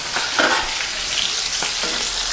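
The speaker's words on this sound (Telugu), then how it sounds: "ఇవి కాస్త పేలుతూ ఉంటాయి. బఠానీ గింజలు పేలుతాయి" Green peas fry in hot oil with a steady, close crackle and sizzle, small pops scattered throughout, cooked before adding to an eggplant and pea curry.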